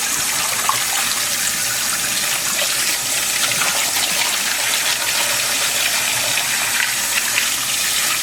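A strong, steady spray of water hisses over an animal skin as it is washed for taxidermy, turned up to higher pressure. The gushing stream is loud and continuous, close to the source, with no talking.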